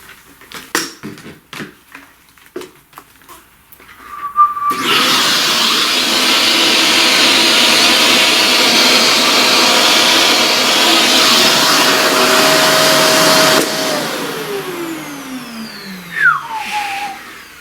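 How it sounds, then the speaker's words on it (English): Some tapping and clatter, then a vacuum cleaner starts with a loud steady whine and roar, runs for about nine seconds, and powers down. "To vacuum all that."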